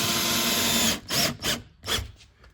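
A power drill drives screws around a jalousie window being rebuilt, with a steady mechanical whir at first, then several short, close bursts as each screw is run in.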